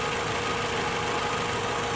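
Toyota RAV4 2.5L engine idling at operating temperature, a steady, faint hum with light mechanical vibration and no change in pace.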